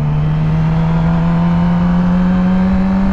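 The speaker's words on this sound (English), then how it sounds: "Clutch in, hand off the throttle, and it's literally just letting your throttle reset and shift up." A motorcycle engine revving while shifting up a gear, heard as a loud, steady, close-up engine hum with a strong constant tone and no speech over it.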